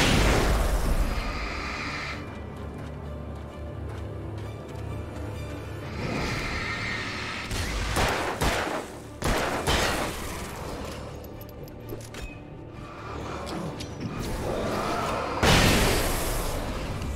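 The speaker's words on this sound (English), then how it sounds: "I love flashbangs." Flashbang explosions in the video game Alan Wake: Ransom, with loud booming bursts and hissing ringing noise spread across a dense, noisy game soundscape.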